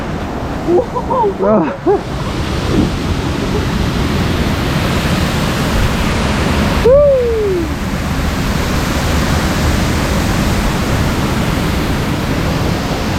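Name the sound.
water waves splashing on a ride at Efteling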